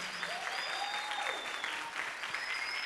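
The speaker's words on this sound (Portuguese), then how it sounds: "muito obrigado pelos aplausos" Sustained audience applause fills a public debate hall honoring the 2025 LGBT+ Pride Parade, a dense steady clatter of many hands with faint whistles cutting through, loud and continuous throughout.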